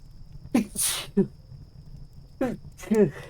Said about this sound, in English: okay, hold on, I gotta sneeze.